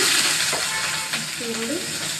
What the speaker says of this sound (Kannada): ಸಿಂಪಲಾಗಿ ಒಗ್ಗರಣೆ ಹಾಕ್ತಾ ಇದ್ದೀನಿ